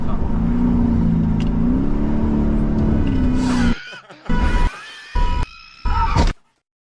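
A BMW M8 and a Lexus race past loudly one after the other, a steady engine roar cutting off abruptly, followed by short sharp bursts of engine revving separated by silence.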